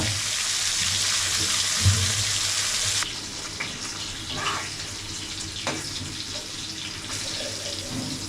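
Hilsa fish fries in mustard oil with a dense, steady hiss that is loud for the first three seconds, then settles softer with occasional light clinks. No one speaks.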